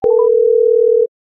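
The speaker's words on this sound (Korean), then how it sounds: "리아한테 걸어보자" A telephone call tone sounds as one steady electronic beep lasting about a second, loud and clean, then it cuts off into silence.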